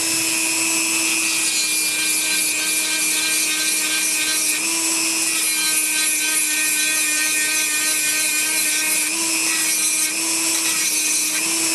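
A Dremel rotary tool carves a reptilian pattern, its high steady whine droning loud and continuous with a grinding, rubbing texture throughout, no talking.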